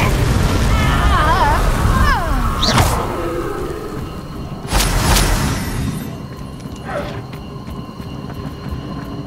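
Confringo blasting spell from Hogwarts Legacy bursting in a couple of loud explosive whooshes, one around the middle and another earlier, with a spoken voice and other game effects mixed in.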